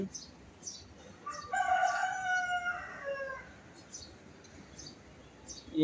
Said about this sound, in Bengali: একটা মোরগ ডাকলো